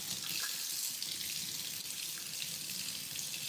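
Warm water runs steadily from a kitchen sink tap into a measuring cup, a continuous close splashing hiss with no talking.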